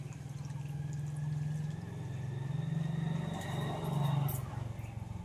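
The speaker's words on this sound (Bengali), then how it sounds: "এবার জল দিয়ে দেবো" Water is poured over cooked rice in a pot to make panta bhat, a steady, close, low gushing stream that swells and eases a few times with no speech.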